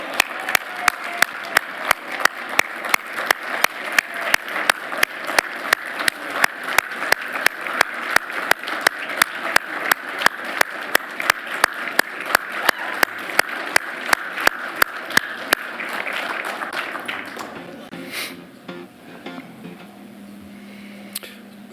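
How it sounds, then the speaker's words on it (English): A gala audience claps in a regular, rhythmic pattern for about fifteen seconds before the applause thins and fades out. "Let's all give Janet a round of applause and the greeting she deserves"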